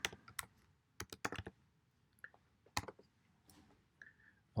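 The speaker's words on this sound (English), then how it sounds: "So I'm typing in now ShareLatex." Computer keyboard typing up close, with short bursts of crisp key clicks and a few isolated taps separated by pauses, fairly quiet in a calm room.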